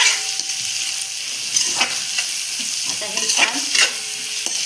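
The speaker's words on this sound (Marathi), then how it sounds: "हे पण छान असं एकजीव होईपर्यंत छान परतून घ्यायचं" A spoon stirs jackfruit biryani rice in a pan, scraping in short uneven strokes over a soft sizzle from the heat; a brief spoken word comes near the start.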